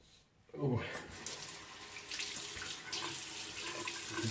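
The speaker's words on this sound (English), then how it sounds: "It's water." Tap water runs steadily into a sink during a shave with a Gillette Fusion Pro Glide 5 razor, a broadband splashing rush that starts abruptly about half a second in and continues close and fairly loud to the end.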